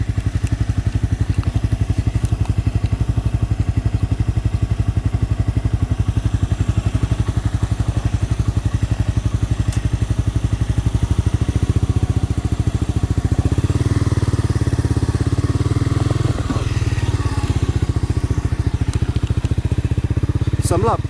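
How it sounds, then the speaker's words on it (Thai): A 2010 Honda CBR 250 motorcycle engine revs while being ridden, a loud, rapid buzzing drone that rises and falls with throttle changes, while someone talks over it. "ตัว CBR 250ตัวเนี้ยมันจะมี ข้อดีครับ คืออย่างที่ผมบอกเนี่ยรอบมันจะมาเร็วมาก"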